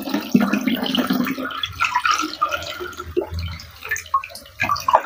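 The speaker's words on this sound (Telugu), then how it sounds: "ఇక నీళ్ళు పోస్తున్నాను చూడండి ఒకసారి, మొత్తం అంతా కూడాను" Water poured into several containers, a continuous splashing and trickling pour that stays close and moderately loud throughout, with no talking over it.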